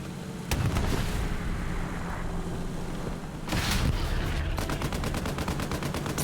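Rocket fire and gunfire in a Hell Let Loose match on the Tobruk map: sharp loud blasts, a heavy boom near the middle, then rapid rattling automatic fire toward the end, all without talk.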